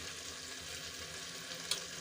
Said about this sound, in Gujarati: આપણા મસાલાને એકાદ મિનિટ સુધી સંતળાવા દઈશું